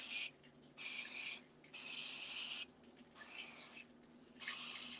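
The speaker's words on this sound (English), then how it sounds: "I'm just gonna have to spray the whole thing." Cooking spray hisses onto a dish in four separate bursts, each about a second long with short pauses between them, close and fairly quiet in an otherwise still kitchen.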